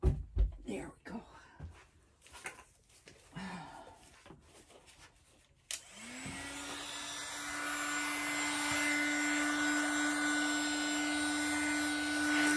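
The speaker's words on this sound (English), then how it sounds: "This is my heat gun." A heat gun used for pour painting switches on partway through, a steady airy blowing hum with a fan whine after a stretch of quiet talking and handling noises.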